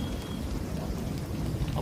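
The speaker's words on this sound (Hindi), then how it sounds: "बारिश, रेलवे स्टेशन।" Steady rain falls at a railway station in a film, a dense, even hiss with a low rumble underneath and no voices.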